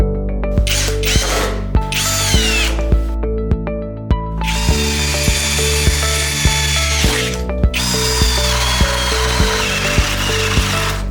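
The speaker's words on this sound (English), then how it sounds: "cordless impact drill." A cordless 20-volt impact wrench with a 2.0 ampere-hour battery whirs at high speed and hammers in rapid rattling bursts, several loud runs separated by brief pauses, close with no talk.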